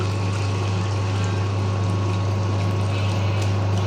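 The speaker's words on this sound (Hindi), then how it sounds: "अब इसमें डाल देंगे पानी।" Water pours steadily into a pan of egg keema masala, a continuous liquid rush over a low constant hum, close and fairly loud for the few seconds heard.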